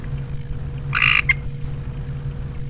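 A green-eyed tree frog croaks in one short, close burst partway through, set against a steady high-pitched chirring and low background hum.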